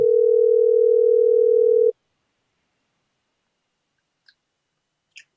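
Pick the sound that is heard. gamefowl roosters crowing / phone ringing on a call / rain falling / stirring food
phone ringing on a call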